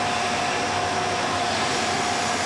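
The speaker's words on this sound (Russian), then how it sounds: "здесь пылесось, зайка" A household vacuum cleaner runs steadily with a loud, continuous whooshing roar and a faint tonal whine, unbroken throughout, with no talk over it.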